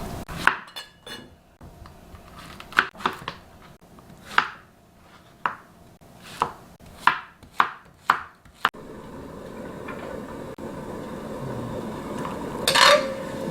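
Vegetables for potato sujebi with zucchini are chopped by knife on a board in a home kitchen, a quick series of sharp close chops that stop partway, followed by low room noise and a brief clink.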